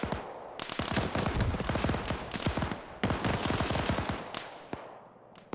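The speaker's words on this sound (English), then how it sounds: "We've encountered HMG fire and also ZU fire on Bravo's position." Heavy machine gun fire in a military video game comes as long, loud rapid bursts of close shots, broken by brief pauses, with no talk.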